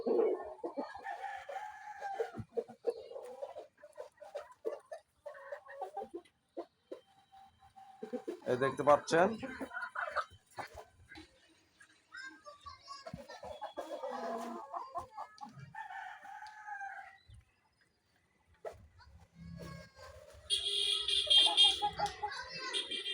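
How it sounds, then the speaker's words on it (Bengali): Colombian Bahama roosters: a rooster crows and hens cluck amid other fowl, with someone talking over parts of it; a brighter crow rings out near the end. "উন্নত মানের অরিজিনাল কলম্বিয়ান বাহামা মোরগ"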